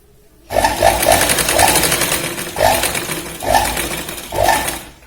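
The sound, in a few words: sewing machine stitching a kurti neck strip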